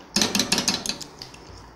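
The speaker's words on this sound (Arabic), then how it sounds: "لازم نقعد نقلب باستمرار عشان الدقيق بتاعي ومع السمنة ما" A spoon scrapes and clinks against a pan as flour and ghee roux is stirred, a quick run of close metallic knocks and scrapes that trail off.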